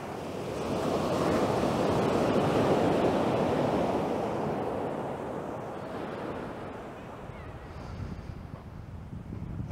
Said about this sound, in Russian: Заряжайтесь, забудьте обо всем и медитируйте с волнами.